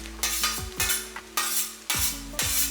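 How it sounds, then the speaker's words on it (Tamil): Chicken fried rice is gently stirred in a pan with a metal spoon, five or six distinct scraping strokes with light clinks against the pan over a low sizzle, close and without talk. "சாதம் வந்து அப்படியே ரொம்ப கிளறக்கூடாது, இந்த மாதிரி லேசாக அந்த மாதிரி தூவி விட்ட மாதிரி கிளறணும்"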